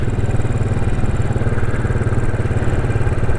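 A motorcycle engine runs steadily at close range, a loud continuous throbbing drone with an even pulse and no speech.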